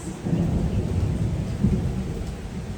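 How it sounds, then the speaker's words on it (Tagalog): Heavy rain pours down in a loud, steady wash while low thunder rumbles through it for the whole stretch, with no voices present. "Sobrang lakas talaga ng ulan."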